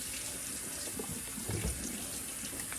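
Vegetable oil drizzles over a turkey in a roasting pan, making a continuous close liquid pouring hiss with a few faint splashes and no talking.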